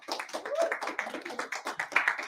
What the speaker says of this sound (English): Tim, give him a round of applause.